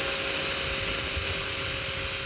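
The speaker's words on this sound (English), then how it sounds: "I'm going to drill one of the holes." A power drill bores a rivet hole through the first wall of a launcher front (H) assembly part, a loud, steady high-pitched whine held without a break for a couple of seconds.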